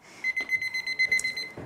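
A kitchen timer being set for baking emits a rapid series of high electronic beeps, close and fairly clear, in a quick irregular run lasting under two seconds with soft handling clicks.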